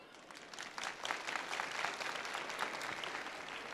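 An audience at a talk claps in steady, dense applause that holds at an even level throughout.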